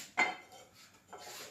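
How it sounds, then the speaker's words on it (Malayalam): A single sharp clatter of a frying pan set down on a stove near the mic, followed by quiet room noise and a softer shuffle. "ചട്ടി വെക്കും"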